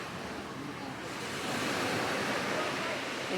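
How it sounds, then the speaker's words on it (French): Ocean waves washing onto a shore outdoors, a steady broad rushing surf that swells slightly louder midway, with some wind mixed in and no clear talking. "Écoute le bruit des vagues."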